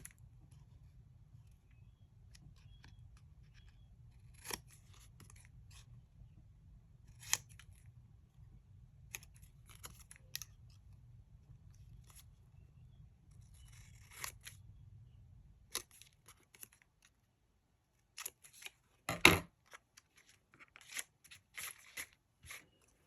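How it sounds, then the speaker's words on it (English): Scissors fussy-cut a paper card piece for a Christmas snowman slider card. Sparse, crisp snips sound close by, first over a low hum and then in a quieter stretch, with one loud cut near the end. "I know I have to cut it down. Let's see here. Just fussy cut it out. Get the corners."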